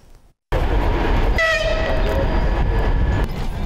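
A passenger train carrying evacuees pulls into Ulyanovsk-3 station, its loud rumble and rolling wagons filling the scene after a brief quiet start, with a horn-like tonal blast sounding midway over the steady rail noise.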